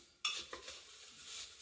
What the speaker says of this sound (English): So let's give it a little mix.